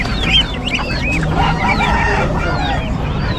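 Chickens, geese and ducks for sale at a pet market in Bocaue cluck and call continuously, close and fairly loud, over a busy background of market chatter.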